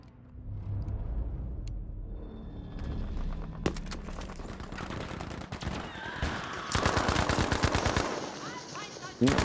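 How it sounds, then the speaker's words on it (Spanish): Shotgun blasts and rapid gunfire crack through a video game firefight, with sharp bursts growing denser and louder toward the end, mixed with rumbling game noise and occasional voice. "Me matan con una escopeta."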